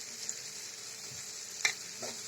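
Potatoes and chopped tomatoes fry in a pan with a steady, soft sizzle, close but quiet, broken by a light clink or stir now and then.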